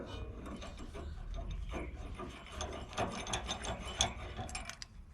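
A lock washer being screwed by hand onto the inner tie rod of a 2006 Toyota Tacoma 4x4, giving soft, steady ratcheting and metallic rubbing clicks close up, with no talk.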